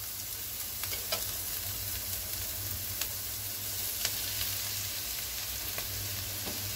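Soya chunks and vegetables frying in a pan, a steady bright sizzle with occasional light taps and scrapes of stirring, close and continuous without talk.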